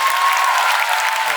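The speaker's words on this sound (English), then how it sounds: "Huge round of applause for Karan Johar." Brief burst of dense audience clapping at an uncut Bollywood film promotion event, loud and steady throughout the short moment.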